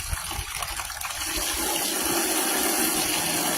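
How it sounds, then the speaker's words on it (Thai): Water gushes steadily into a basin being rinsed during hand laundry with detergent, a close, continuous pouring and splashing that grows fuller after the first second, with no talking. "เดี๋ยวล้างกระมังล้างน้ำสักหน่อยนึงก่อนจ้ะ"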